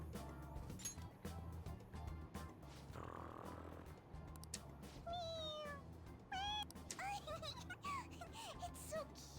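A cartoonish cat in the video game Persona 5 Royal gives several short, rising meows in quick succession after a stretch of clinks and a soft snore-like rumble, heard over faint game background.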